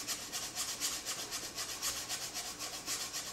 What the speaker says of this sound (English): These, I think, are just called nylon brushes, and they make a really cool shaker.